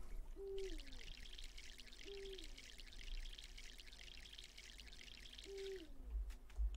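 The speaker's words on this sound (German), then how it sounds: "Dann nochmal gießen." Watering a plant in the life-sim game MySims: a steady pouring trickle of water runs for several seconds over a soft, repeating game music tune, fairly quiet and alone with no talking.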